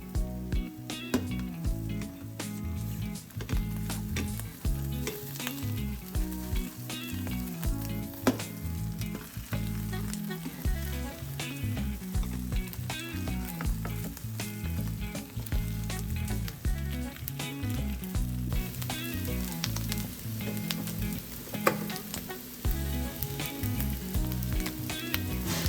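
Eggs fry in a pan for a high-protein breakfast, a steady loud sizzle and crackle that runs continuously throughout with occasional pops and stirring scrapes.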